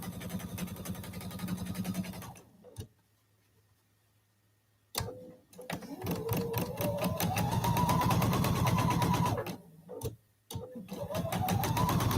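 A sewing machine stitching a quilt block with a scant quarter-inch seam: steady rapid mechanical whirring in loud runs, broken by short silent pauses, its pitch rising as the stitching speeds up, with no talk.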